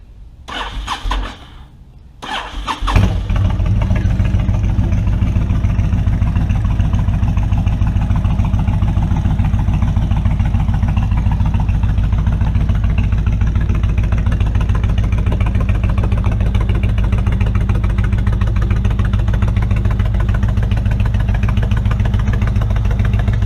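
A Honda VTX 1300C cruiser motorcycle with about 51,283 miles cranks and catches after a few seconds of near quiet, then settles into a steady, loud, close-up idle rumble that holds evenly to the end.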